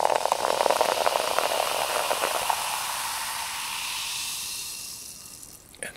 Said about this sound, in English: And just let that sizzle for a bit.